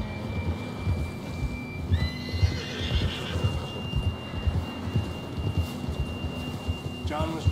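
A horse in the Western video game Red Dead Redemption 2 gives a rising whinny, then another neigh near the end. Hooves clip-clop steadily underneath and a voice speaks briefly.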